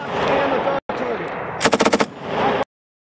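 Gunfire at an outdoor shooting range: a rapid string of about six loud, close shots bursts out mid-clip, with steady wind and background noise before and after.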